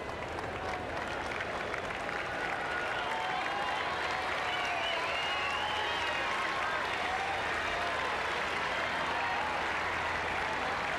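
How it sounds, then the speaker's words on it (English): Cheering and applause for Andre Agassi at the 1995 Cincinnati tennis final against Michael Chang, a sustained, dense roar of clapping spread across a large stadium crowd with whistles and shouts rising over it. "So the cheers and the applause largely for Andre Agassi"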